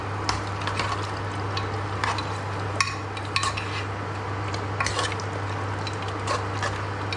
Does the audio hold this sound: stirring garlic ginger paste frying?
yes